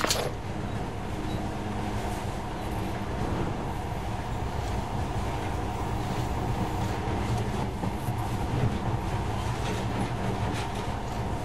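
A monorail in Metro Last Light rumbles along steadily, a continuous rolling rattle and hum with faint clanks, sustained throughout at a moderate level.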